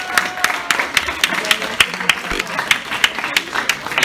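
An audience claps for Terka in a brisk, fairly loud run of individual claps spread across the whole stretch, with faint background noise between them.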